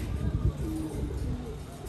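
Racing pigeons at a flying loft give soft, low cooing under a murmur of background voices, with one brief fuller coo near the start.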